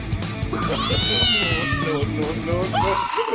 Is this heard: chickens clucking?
no